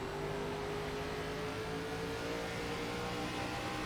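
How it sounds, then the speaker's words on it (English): An ARCA Series race car on the Richmond track in iRacing holds a steady, droning engine note as the throttle is pressed, its pitch climbing slightly, with no talk over it. "Getting a little too overzealous on the throttle."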